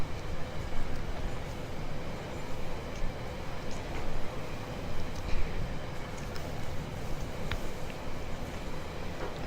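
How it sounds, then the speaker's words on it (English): A train rumbling along in the Rolling Line railway game, a steady, loud rolling drone with faint metallic clicks and ticks scattered over the top. "We're flying over the ferry in a train."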